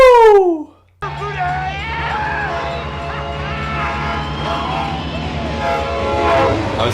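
A train rushes past in a film, starting with a loud falling horn blast that cuts off, then a sustained heavy rumble and clatter of cars with screeching squeals over it, steady and close for several seconds.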